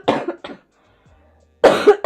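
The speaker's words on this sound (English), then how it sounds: "still have a cough" A single person coughing in a few harsh bursts, then a quiet pause before another louder cough, close to the listener.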